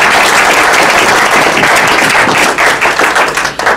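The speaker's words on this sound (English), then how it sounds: "So give yourselves a round of applause." Audience at a Democratic forum applauding steadily, a dense wash of many hands clapping at close range that stays loud for nearly four seconds before thinning slightly near the end.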